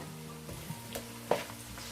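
Sliced green chilies sizzle quietly in hot oil for a couple of seconds, a soft steady crackle with a few small pops and a faint background hum.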